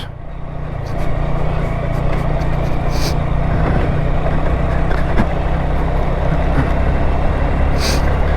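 Honda Grom motorcycle riding a rough unpaved road, a steady loud engine drone mixed with rumbling wind and road noise, with occasional knocks and rattles from the bumpy surface.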